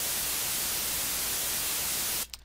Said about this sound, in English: go down here to the noise generator where it has white noise and turn that amp all the way up